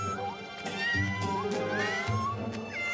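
A cartoon cat meows in a series of short rising and falling cries over a busy musical backdrop, fairly clear and close.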